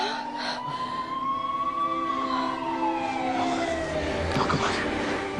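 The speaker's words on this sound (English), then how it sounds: "The ambulance is on the way, okay? It's here. It just got here." An ambulance siren wails as the vehicle arrives, a clear rising and falling tone sweeping over a faint background of traffic and rumble, moderately distant and steady throughout.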